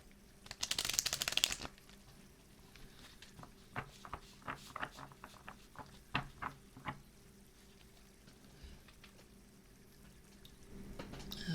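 Tarot cards are shuffled close up, opening with a loud riffling burst, then a run of quieter separate taps and flicks, with a short shuffle again at the end.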